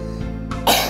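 A sick young girl coughs a few times up close, with short harsh bursts, the loudest at the end, over a steady background hum.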